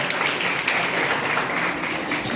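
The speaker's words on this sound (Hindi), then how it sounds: "बहुत अच्छा, ताली बजाओ इसके लिए।" A school audience in Khatauli, Muzaffarnagar, claps steadily at a financial literacy session run by the RBI and CRISIL Foundation. The dense, even applause fills the whole stretch with no break.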